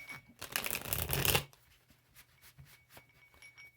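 A new deck of tarot cards is shuffled by hand in a brisk, dense riffling burst lasting about a second and a half, then soft scattered card taps and handling sounds follow, close and fairly quiet.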